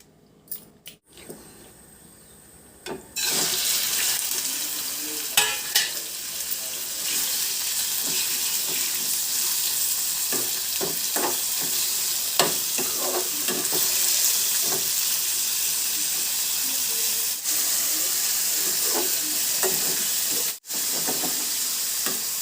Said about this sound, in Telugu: ప్రాన్స్ బిర్యానీకి కొద్దిగా లైట్గా వేపాలి